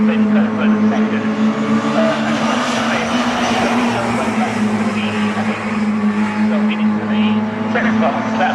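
Mini Miglia race cars battling in a tight three-car pack at Snetterton, engines droning loudly and steadily throughout with some tyre noise, under a commentator's continuous talk.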